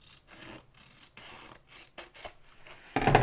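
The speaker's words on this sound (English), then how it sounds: "Snip that off a wee bit more." Scissors snip through craft paper with several soft, brief cuts and rustles at close range, ending in a louder rubbing scrape, all under quiet with no speech.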